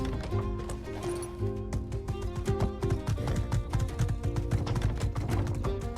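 Horse hooves clip-clop in the video game My Time at Sandrock, a steady quick rhythm of close, moderately loud steps layered over game music, with a brief voice.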